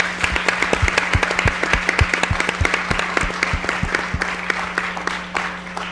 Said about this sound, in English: Please a round of applause for these guys.